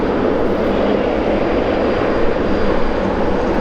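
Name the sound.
Air Canada Boeing 777 airliner at London Heathrow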